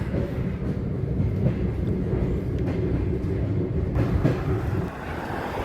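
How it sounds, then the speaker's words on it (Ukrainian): Electric commuter train riding toward Uzhhorod, a steady low rumble and rolling clatter heard from inside the carriage, continuous and moderately loud with no voices. "їду електричкою до Ужгорода"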